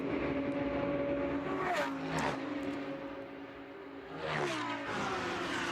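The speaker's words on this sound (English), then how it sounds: "that's the tyre running over the serrations and the curbing as you come into Eau Rouge" A GT race car at the 24 Hours of Spa runs its tyres over the serrated kerbs entering Eau Rouge, giving a steady engine drone with rough buzzing bursts near the two- and four-and-a-half-second marks.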